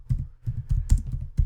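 Someone types on a computer keyboard, a quick, close run of soft key clacks in an uneven rhythm with a few louder strikes, and no talking.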